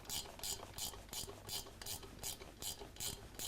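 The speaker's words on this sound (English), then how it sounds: "So we need a 3/8 ratchet wrench" A 3/8-inch ratchet wrench working on the rocker box bolts of a motorcycle engine, clicking in about ten quick, evenly spaced bursts of ratchet-pawl chatter, close and fairly quiet, with no speech.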